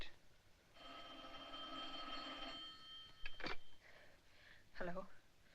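A telephone bell rings once in a sustained metallic trill in a 1940s film scene, followed by short breathy sounds and a brief spoken word at close range.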